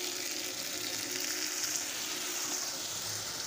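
Spiced water poured into masala frying in a pan sets off a steady, bright sizzle with a soft bubbling hiss underneath, close and continuous, with no talking.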